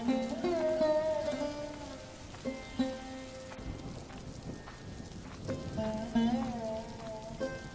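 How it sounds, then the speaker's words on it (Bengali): Winter rain in an animated village scene, a steady patter of rain on surfaces running throughout, beneath intermittent voices and tonal sounds. "শীতের সময় বৃষ্টি আমি কোনোদিন দেখিনি বাবা"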